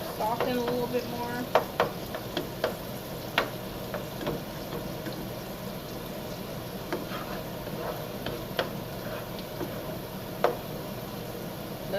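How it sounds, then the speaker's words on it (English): Onions for paprika chicken sizzle steadily in a pan, a quiet continuous frying hiss up close, broken by occasional sharp taps and clicks of a utensil. "I want these onions to cook a little bit more, soften a little bit more."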